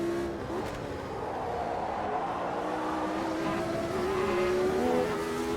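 A 1983 Formula One car in the racing simulator Automobilista 2 under hard braking, its engine note sweeping and shifting steadily with a continuous roar and faint tyre scrub, fairly close.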